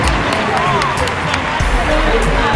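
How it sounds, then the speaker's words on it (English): Audience applause and cheering at a Circle of Sisters skincare expo: a dense, continuous wash of clapping and crowd noise, loud and close, with voices mixed into the hubbub throughout. "Round of applause"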